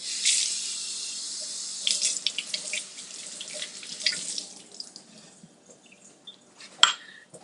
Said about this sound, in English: let me rinse everything off.